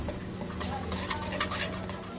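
Spoon stirring pani puri masala spice mix with black salt in a bowl, close and fairly quiet, with continuous scraping and light taps against the bowl.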